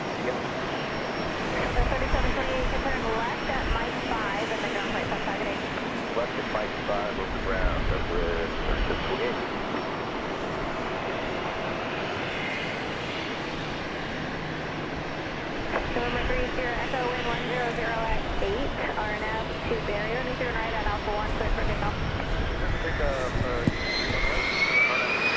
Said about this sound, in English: That's flight 3728, a 737-700 arriving from Reagan Airport in Washington.